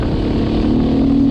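A Honda XR600R dirt bike is held open in 5th gear on a desert trail, giving a loud, close, continuous engine roar whose pitch climbs gradually.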